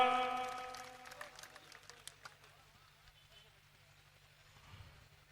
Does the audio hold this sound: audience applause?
yes